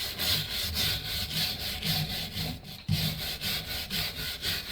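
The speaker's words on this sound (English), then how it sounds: "all I'm doing is wire brushing" A wire brush scrubbing a brake caliper, steady rhythmic back-and-forth rasping strokes, close and moderately loud, with a brief pause before the scrubbing resumes.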